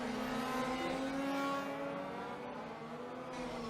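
Large-scale FEMCA LS-510 class race cars scream down a back straight, a loud sustained engine whine with several overlapping tones that fades slightly toward the end, with no voices over it.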